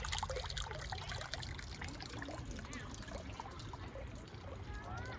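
Water running through a Japanese garden water feature at Mount Coot-tha Gardens, a steady close trickle and pour that fills the whole stretch with continuous splashing.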